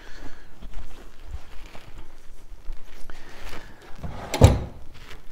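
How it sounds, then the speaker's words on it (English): A wooden drawer slides out of a Victorian Lincolnshire pine chiffonier with scraping and rumbling wood-on-wood friction, ending in a sharper knock near the end, close by and with no speech. "the bottom drawers come out with this shape as well. That all comes out, that's part of the drawer"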